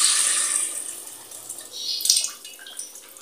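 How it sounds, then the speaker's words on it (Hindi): Water pours steadily into a cooking pot for mutton yakhni pulao, about two kilos' worth, a bright, splashing rush that swells and dips over a few seconds with no talking. "मैं इतना पानी डाल रही हूँ"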